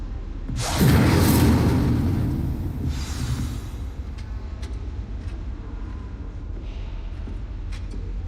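A whooshing burst of flame from an Incendio spell cast in Hogwarts Legacy, a loud roaring swell that flares up then gradually fades into quiet ambience.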